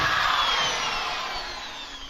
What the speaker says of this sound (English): you're drilling these holes for battery hold down clamps